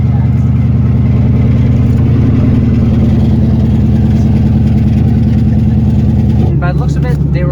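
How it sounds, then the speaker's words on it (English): A Mercury car that sat unused for years idles with an exhaust leak, its engine a loud, steady low rumble with a fast ticking pulse throughout, changing pitch and roughness near the end. "I've heard worse exhaust leaks. Doesn't sound too bad."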